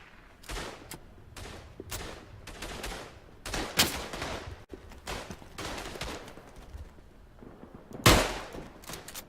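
Rifle gunfire rings out in the WWI shooter game Tannenberg. Sharp shots and ragged volleys crack one after another, some near and some distant, with one loud close report near the end.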